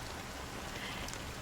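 Rain falls in Penacony in the video game Honkai: Star Rail, a soft, continuous patter and hiss of drops that stays even and fairly quiet throughout, without any talking.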